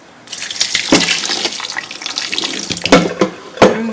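Water from cheese curds for cream cheese drains through a bag set over a colander, a close, steady splashing and trickling broken by a few louder drips and plops.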